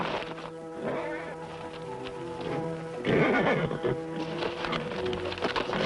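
A horse whinnies loudly and close by, a long wavering neigh followed by a second burst, with some shuffling around it.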